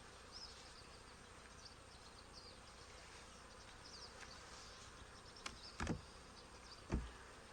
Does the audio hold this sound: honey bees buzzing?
yes